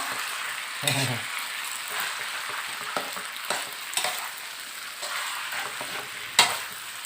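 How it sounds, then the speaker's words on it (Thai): Noodles stir-fry in a wok for pad see ew with marinated pork, with a steady sizzle and repeated spatula scrapes and clanks, close and without talk. "ผัดเส้นให้หอมครับ เวลาผัดก็ใช้ไฟตะหลิวนะครับ"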